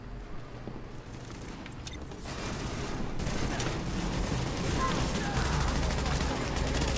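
Gunfire and sniper shots in the video game The Division form a dense, continuous crackle of shots and impacts that grows slightly louder, with no clear speech.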